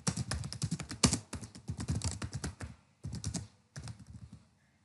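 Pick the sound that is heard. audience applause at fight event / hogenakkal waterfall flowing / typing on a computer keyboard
typing on a computer keyboard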